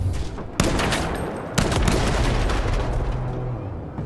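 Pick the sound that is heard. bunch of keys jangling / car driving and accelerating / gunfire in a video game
gunfire in a video game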